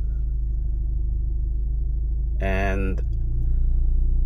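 A modded 2018–2020 Honda Accord with a failed CVT transmission idles in drive, giving a steady low engine rumble close by, with a short burst of a voice over it.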